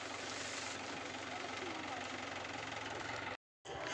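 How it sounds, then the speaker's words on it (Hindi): A tractor engine runs steadily and close by during paddy threshing work in Bastar, Jagdalpur, a continuous loud rumble that cuts out briefly near the end before resuming. "इधर ला रहे हैं ट्रैक्टर"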